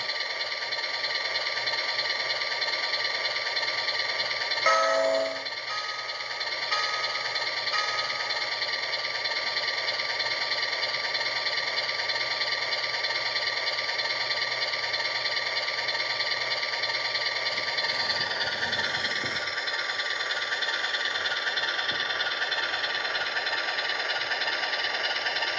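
An HO scale Pennsylvania Centipede model locomotive built from AHM parts runs slowly on its track, a steady mechanical whir and hum with a faint rhythmic chugging, close and continuous with a brief clunk near the start.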